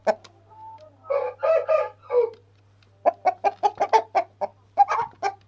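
A blue Shamo rooster crows loudly and close, one drawn-out crow followed by a rapid run of short clucking calls, with no talk.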